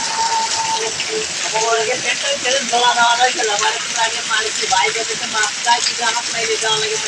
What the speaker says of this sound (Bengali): সকাল থেকে বৃষ্টি চলছে ঢাকা জিরানি বাজারে বৃষ্টিতে ঝড় ঝড় ঝড়ো ঝড়ো বৃষ্টি